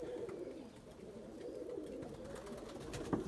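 Pigeons coo in low, soft, throaty rolls, repeating steadily and fairly faint, with light shuffling and rustling around them and no one talking.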